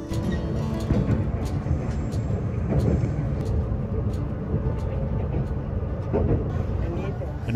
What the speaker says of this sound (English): As the train rolls back down from elevation